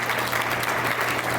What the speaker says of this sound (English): Let's a round of applause for Mount Sunapee.